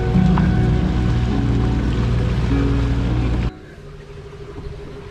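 A sailboat underway on open water with its engine running: a loud, steady low drone that abruptly stops partway through, leaving quieter rushing water and breeze.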